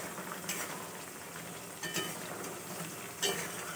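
Ridge gourd and shrimp curry cooks under a lid in a pan, giving a steady, soft sizzle and bubbling hiss with a few brief louder crackles.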